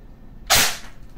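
A single sharp shot from a Daniel Defense MK18 airsoft rifle, a short loud crack rising out of a quiet background and decaying within a fraction of a second.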